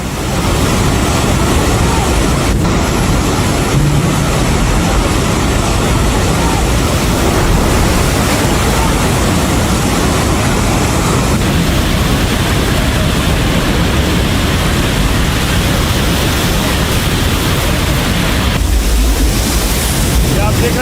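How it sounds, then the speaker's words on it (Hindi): Torrential floodwater from a flash flood near the China–Nepal border surges past a bus depot, a loud, unbroken roar of rushing water with wind buffeting close to the microphone throughout. "पानी का बहाव देखिए जरा, इतनी तेज पानी आया है"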